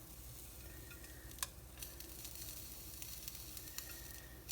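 Cornflake-coated chicken strips fry in a pan with a continuous low crackling sizzle, scattered sharper pops and ticks rising above a steady hiss, fairly quiet throughout.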